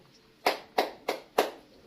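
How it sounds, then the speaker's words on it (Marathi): A child claps hands four times in a steady, evenly spaced rhythm, crisp and close with a quiet room around it. "4 टाळ्या वाजवायच्या तू."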